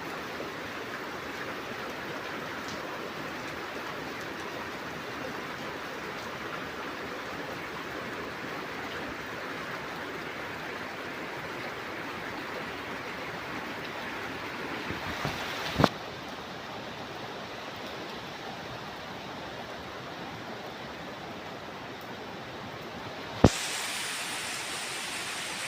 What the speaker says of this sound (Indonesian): di sini saya lagi menunggu hujan reda ya